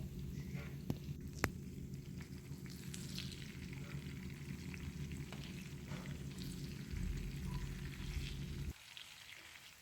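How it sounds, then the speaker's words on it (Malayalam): Mackerel pieces fry steadily in hot coconut oil, a dense close crackling sizzle with a few sharp pops, running continuously before dropping off abruptly near the end. "ഓരോന്നോരോന്നായിട്ട് എടുത്ത് ചൂടായ വെളിച്ചെണ്ണയിലേക്ക് ഇട്ട് കൊടുക്കുന്നു"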